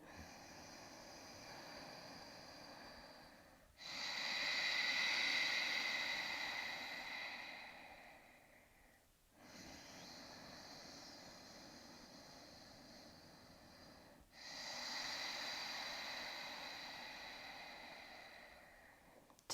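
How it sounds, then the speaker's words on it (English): Slow ujjayi yoga breaths drawn through the back of the throat, a long hissing inhale and exhale repeating in steady cycles of about five seconds, close and clear with no talking. "breath in the back of our throat as we breathe"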